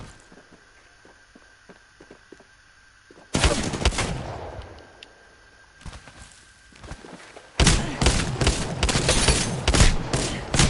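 Video game gunfire from bots shooting at the player: loud bursts of rapid automatic fire break out partway through and again near the end, with fainter scattered shots before.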